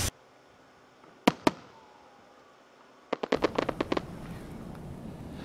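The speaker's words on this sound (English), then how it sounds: "Fireworks could be seen from those camped out near Bolingbrook Golf Club." Fourth of July fireworks over Bolingbrook, seen from a golf club area during a drive-in show. Scattered distant pops come first, then a quick volley of sharp bangs followed by crackling.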